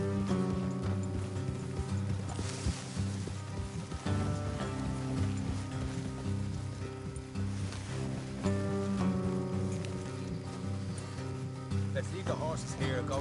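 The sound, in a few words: horses' hooves clip-clopping in a video game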